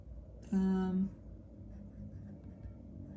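A marker squeaks briefly across a board, one short written stroke with a tonal rasp. It stands out clearly against a quiet room background that is otherwise nearly silent.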